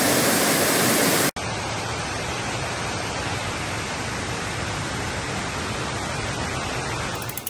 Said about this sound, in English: dip in that waterfall created by the reservoir